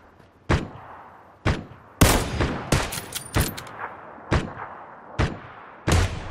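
Gunfire in PUBG: several sharp, loud single shots and short bursts spaced irregularly across a few seconds, echoing against a quiet background.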